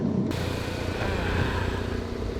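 A freshly rebuilt rotary engine car revved hard and run at full load, giving a loud, continuous, raspy engine roar that holds steady throughout with no pauses and no voices.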